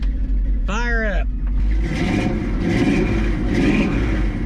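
A 1977 Chevrolet 4x4 truck on a farm fires up: a brief rising high whine, then the engine catches and settles into a loud, steady rumbling run with swelling revs throughout.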